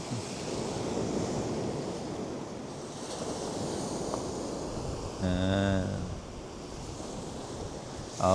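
Steady rushing surf and wind noise fill the clip, with a brief voice near the end and a short tonal burst in the middle.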